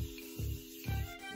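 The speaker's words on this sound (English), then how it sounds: "is our Morphe setting spray." Morphe setting spray mists from a bottle in three short, soft spritzes about half a second apart, close and quiet, with a faint hiss between them.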